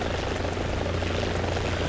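Helicopter rotor and engine in the video game War Thunder give a loud, continuous rumbling whir with a steady low throb throughout.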